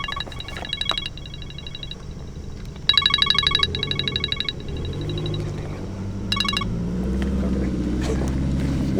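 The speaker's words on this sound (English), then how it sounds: "Work phone." A work phone rings in repeated electronic trilling bursts, fairly loud and close, over a steady rumbling engine idle near police cruisers outdoors.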